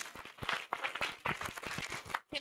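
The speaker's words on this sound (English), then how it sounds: "Big applause for me." Workshop audience breaks into applause, a loose patter of hand claps from a modest crowd indoors, moderately distant and fairly quiet, no speech over it.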